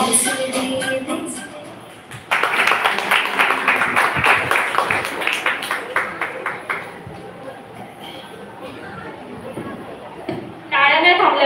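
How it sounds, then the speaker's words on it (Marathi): Audience applause at an Independence Day performance, a burst of rhythmic clapping that rises, holds for several seconds and fades out, with talk and music around it. "टाळ्या नाही थांबल्या पाहिजे."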